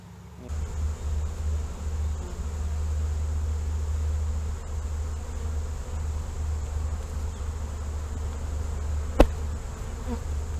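Honey bees buzz steadily on a hive frame pulled from the middle of a box holding nectar and honey, a close, continuous drone with one brief knock near the end.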